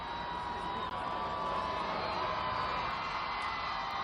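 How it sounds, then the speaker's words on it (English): Large crowd at Barack Obama's 2009 presidential inauguration walk cheering and roaring steadily from a distance, a dense wash of voices with scattered whoops. "I can hear the crowds."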